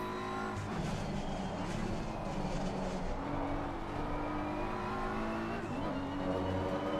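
In the LFS racing game at Brands Hatch, a race car engine drones steadily and fairly faintly at high revs. Its pitch drops at an upshift partway through, then climbs again.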